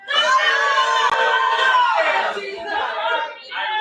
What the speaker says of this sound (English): I just heard some farts and some yells